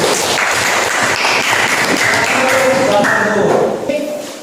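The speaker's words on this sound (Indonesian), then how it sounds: "tepuk tangan dulu" A classroom of students claps steadily for several seconds, a dense patter of hands that fades away at the end.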